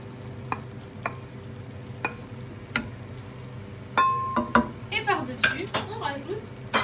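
Minced meat frying in a pan for stuffed aubergine, with a spoon tapping the pan a few times before steady scraping and stirring through the soft sizzle.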